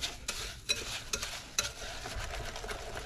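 A whisk stirring a thick crab cake mixture with panko breadcrumbs in a bowl, giving close, quiet, wet scraping and clicking strokes in an irregular rhythm, with no talk.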